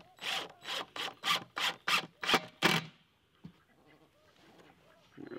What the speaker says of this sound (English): we're just going to drill those through the bottom of the pan and into the 2x4